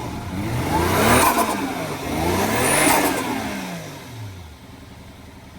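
Twin-turbo Toyota Soarer engine revved up twice in close succession, the pitch sweeping up and falling back each time before settling to a lower idle, loud and close with no talk.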